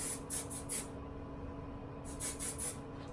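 Hairspray hisses onto curls in short bursts: three quick sprays, a pause, then three more, close and fairly soft.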